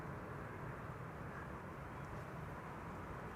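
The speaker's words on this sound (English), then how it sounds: "KLM flight 1402 arriving from Paris, 737-800 with a carrying cabin in the back" A KLM Boeing 737-800 arriving at Amsterdam Schiphol from Paris, heard as a steady low engine rumble and roar at a constant moderate level.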